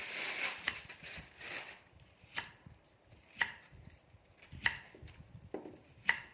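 A knife chops peeled termite mushrooms on a board in a series of crisp, separate cuts at an uneven, unhurried pace, fairly quiet and close, with little else around them.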